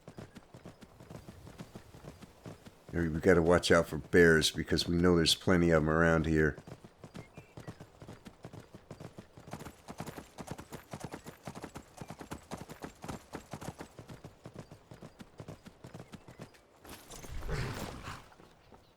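A horse's hooves clip-clop in a steady trot through Skyrim's game world, continuous rhythmic thuds running for most of the stretch, with someone talking over them and a horse whinnying briefly.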